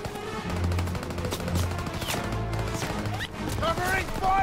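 Call of Duty WWII machine gun fire rattles in steady rapid bursts through a wartime battle. It is loud and close, with shouted voices and other battle noise mixed in.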